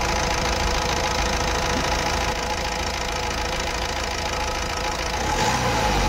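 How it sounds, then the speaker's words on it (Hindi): A Honda Amaze car engine, recently treated for misfiring, vibration and a check-engine light, runs loud and close with a steady rumbling drone and a slight lift near the end as it is revved lightly. "रेस करो ज़रा रेस हल्का"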